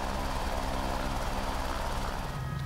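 Steady, loud turbine-and-rotor drone of an H125 helicopter in a flight simulator game, a constant whine and thrum with no talk over it.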